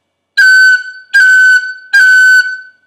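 Three short, bright high-pitched tin whistle notes, each a high-octave F with a quick cut flick at the start, evenly spaced and clear, played alone.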